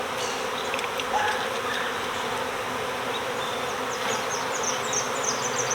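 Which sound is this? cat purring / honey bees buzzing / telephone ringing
honey bees buzzing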